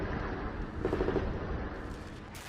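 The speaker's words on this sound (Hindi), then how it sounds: "दोनों तरफ से विध्वंसक गोलाबारी की आवाजें सुनाई दे रही हैं।" Combat in Gaza between Israeli forces and Hamas fighters, with dense gunfire and heavy shelling, a continuous loud rumble of shots and blasts with sharper bursts standing out.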